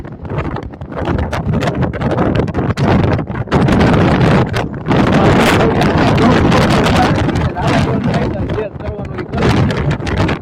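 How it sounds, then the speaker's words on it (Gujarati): Loud, gusty wind buffets the microphone with roaring, rumbling bursts that rise and fall continuously for the whole stretch. "ઝડપે પવન થાય છે."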